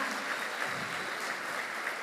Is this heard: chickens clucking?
no